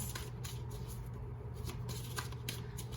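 Tarot cards are shuffled by hand, a quick run of soft riffling flutters and light papery slaps repeating at a steady pace, close and faint, with no speech.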